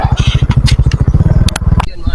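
A motorcycle engine idles close by, its steady low chugging pulse running throughout with a few sharp clicks and rattles on top near the end.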